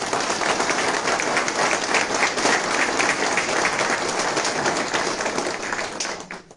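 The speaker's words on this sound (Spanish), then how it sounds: "damos un fuerte aplauso a nuestra querida Mamá Inca." Applause for the deceased at a wake after a Mass, a sustained loud round of clapping from a gathered group that tapers off at the very end.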